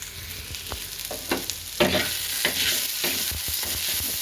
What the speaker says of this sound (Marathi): छान भाजायला चांगलंच भाजून घ्यायचं